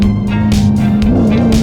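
Dodge Challenger 392 engine fitted with a pedal box, heard up close as a loud, steady rumbling tone that rises slightly in pitch for a moment near the end, with no voices over it.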